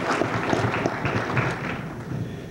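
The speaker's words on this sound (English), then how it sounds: "Give her an individual round of applause." Applause from an audience at a 1991 high school academic awards dinner, a brief spell of muffled, fairly dense clapping heard from a distance with some crowd murmur beneath.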